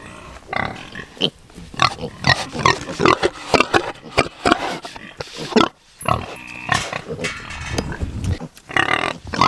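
A sow nursing her litter of piglets grunts and snorts close up in a farm pen, with a rapid, irregular stream of loud grunts and squeals over several seconds and no talk.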